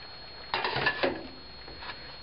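Pasta with chicken and mushrooms in cream sauce being stirred in a pan, a short burst of close scraping and clinking from a utensil against the pan, then a faint clink.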